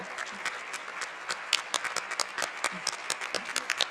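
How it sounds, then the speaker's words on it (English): Steady audience applause at a book fair press conference in Bologna, many hands clapping continuously with sharp individual claps standing out, filling the room without talk. "to receive a round of applause"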